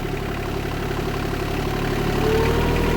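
A tractor engine idles in a steady, loud, low drone as it creeps up to an RK 24 grapple attachment, its pitch lifting slightly near the end.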